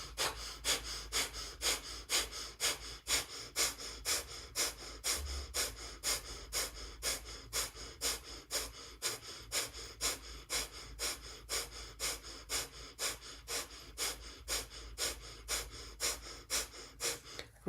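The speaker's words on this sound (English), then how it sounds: "breath of fire or long deep breathing" Breath of fire in a yoga class: quick, forceful rhythmic nasal exhalations, steady and evenly spaced at about two per second, continuing for many seconds, close and alone.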